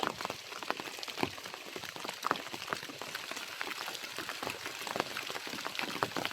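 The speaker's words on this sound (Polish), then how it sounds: "Niech pada, niech popada." Light rain patters steadily on a watermelon field, with scattered close drops tapping irregularly over a constant soft hiss.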